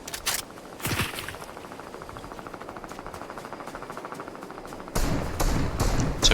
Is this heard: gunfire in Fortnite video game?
yes